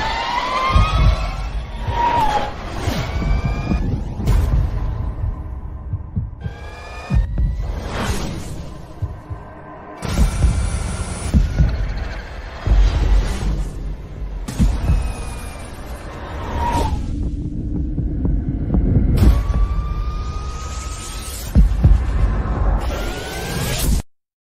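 Harley-Davidson LiveWire all-electric motorcycle running, heard as a rising and falling electric whine with tonal sweeps that repeat over about twenty-four seconds, loud and close, alone without voices.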